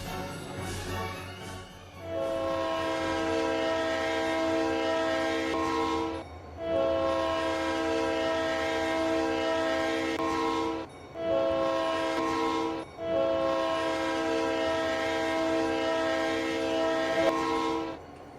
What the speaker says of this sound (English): their horns are the P3s, P5s, and RS3Ls